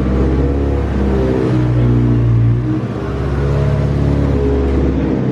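A car with a swapped 1JZ engine, sitting partly mounted during an install, runs close and loud. It idles with a steady drone, surges in a couple of revs and then settles back, with no talking.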